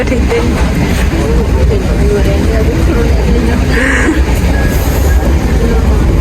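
Loud, constant rumble of a moving Sri Lankan passenger train on the Colombo Fort to Beliatta line, with rattling undertones and a brief squeal, while voices talk over it.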